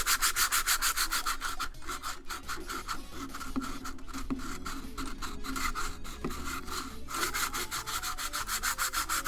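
Lower grit sandpaper sanding a part for a pinball machine build, producing close, loud, continuous rhythmic rubbing strokes with a coarse scratchy texture, no voices.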